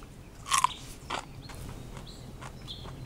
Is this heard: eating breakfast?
yes